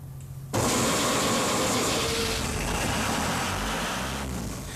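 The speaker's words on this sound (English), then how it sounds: "When you have sufficient pressure, then you can try to start her up." A lifeboat engine on an offshore TEMPSC survival craft cranks and catches after a short quiet lead-in, then settles into a loud, steady mid-pitched running drone with vibration that holds to the end.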